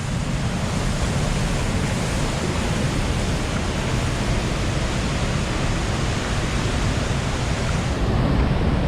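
Ellenborough Falls roars in flood, a dense, unbroken wash of rushing water that stays loud and steady from start to finish.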